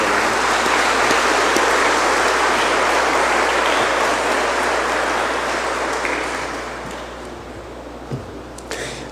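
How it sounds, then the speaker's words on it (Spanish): A church congregation gives sustained, loud applause, a dense continuous patter of many hands that holds steady for several seconds and then gradually tapers off to scattered claps. "Le damos un aplauso a él y a Dios por esto."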